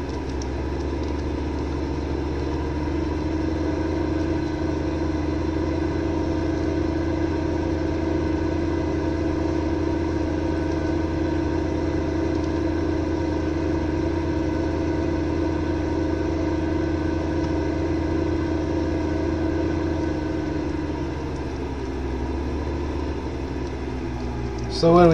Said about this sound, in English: Can't remember the last time I used the in-game tractor.